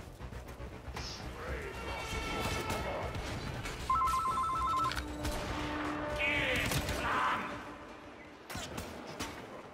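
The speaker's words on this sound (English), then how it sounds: "I don't know who the fuck decides to call my house phone at 9 o'clock" House phone ringing indoors in repeated electronic trills, moderately loud over steady background game sound, with several sharp bursts mixed in.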